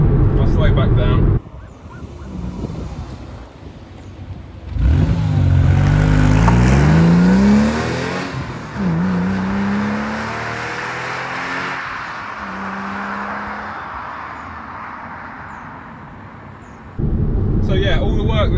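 A Porsche 996 C2 on the road at high speed, its engine and road roar swelling loudly with rising revs, then easing off and dropping to a quieter steady drone as the car slows, with a voice talking over parts of it.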